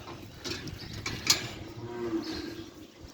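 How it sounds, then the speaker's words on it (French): Cows on a French farm lowing in a few drawn-out moos, moderately distant, over open outdoor background noise with no voices. "Ça, c'est les vaches."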